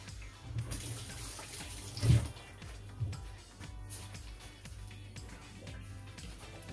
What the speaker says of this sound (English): Now I have to wash my hand because I made a little bit of mess.